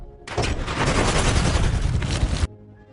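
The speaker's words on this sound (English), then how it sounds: "When the white van exits the airport, El Diablo opens fire, riddling it with bullets." Sustained gunfire riddles a white van with bullets in an action film scene, a loud dense barrage lasting about two seconds over a low rumble.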